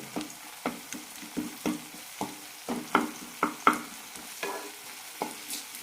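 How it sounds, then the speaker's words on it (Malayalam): Cooked tomatoes being mashed and stirred in a pan while making a dried bitter gourd curry, giving a series of soft, wet squelches and scrapes at an uneven rhythm, close and fairly quiet, with no voices. "തക്കാളിയൊക്കെ വെന്തിട്ടുണ്ട് ചെറുതായി ഒന്ന് ഉടച്ചു കൊടുക്കാം"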